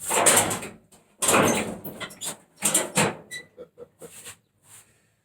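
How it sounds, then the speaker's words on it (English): Heavy high-security front door being unlocked and opened, with a run of loud metallic clanks and rattles in bursts, then lighter clicks and knocks trailing off. "I just gotta open the front door here."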